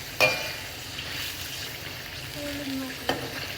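Broiler chicken frying with dried chillies in a pan gives a steady close sizzle, broken by two sharp stirring clanks near the start and end, with no talk.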